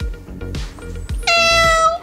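A cat at the vet lets out one loud, drawn-out meow after a few soft thumps and shuffling noises close by, with no talking during the cry.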